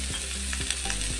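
Chopped onions and green chillies sizzle loudly in hot oil in a close pan, broken by short stirring scrapes about every half second.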